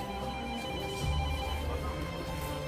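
A telephone rings faintly at a hotel reception desk in Corte, Corsica, a steady electronic ringing tone under background hum, with no talk.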